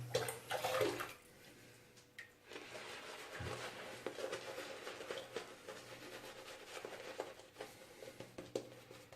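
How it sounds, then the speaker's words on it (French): Water running and splashing onto a shaving brush, a loud burst of gushing water at first, then a steady, softer trickle and patter that carries on to the end. "Rajoute un peu d'eau quand même."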